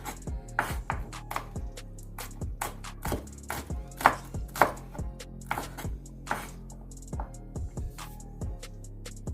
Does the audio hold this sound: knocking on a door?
no